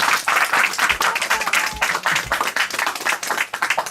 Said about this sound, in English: So give a round of applause to the kids.